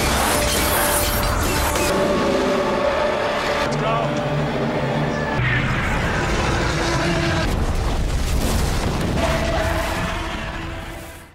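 A giant monster called Behemoth explodes in a film, a loud sustained roar of crashing and rumbling debris with booming bursts, fading out at the end, under narration.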